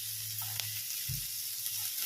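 Onions fry in a pan with a soft, continuous sizzling hiss, joined by a brief low thump as garlic paste goes in, quiet and close with no talking.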